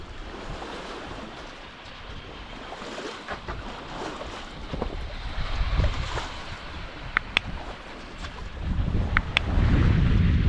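A sailboat sailing upwind at three to four knots on an around-the-world voyage near Ambon, Indonesia, with continuous rushing water and wind buffeting the microphone, occasional sharp creaks or clicks and swelling surges of spray toward the end.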